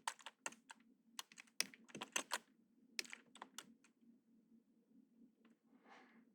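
Keyboard shortcut keys pressed while working in a drawing program, a close run of sharp, irregular clicks and taps in short bursts that thin out toward the end, no talking.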